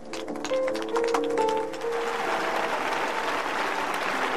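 A church congregation breaks into applause after a brief sung or intoned voice, the clapping swelling within a second and then continuing as a dense, even patter.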